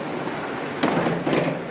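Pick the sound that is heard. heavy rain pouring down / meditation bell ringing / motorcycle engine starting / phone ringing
heavy rain pouring down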